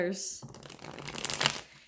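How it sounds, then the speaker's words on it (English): Tarot cards are riffled and shuffled close up in one quick burst, with a soft crinkly flutter that swells and then fades. "Let me do one more shuffle."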